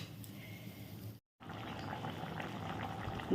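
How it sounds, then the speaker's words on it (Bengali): Fish curry gravy made with bhola fish bubbles in a pan, a steady close boiling and simmering hiss broken by a brief gap of silence, with no voices. "দেখো ঝোলটা ফুটে উঠেছে"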